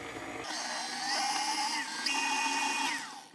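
Electric mixer beating gluten-free pumpkin muffin batter made with soy milk, a steady high whirring motor that shifts pitch as it works, close and continuous with no talking.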